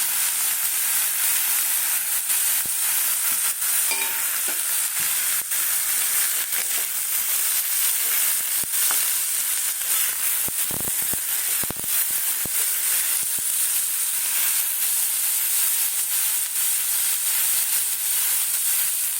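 Potato and onion pieces frying in a pan with oil, alongside bitter greens being cooked, giving a steady broadband hiss of sizzling that holds close and even throughout, with a few faint clinks.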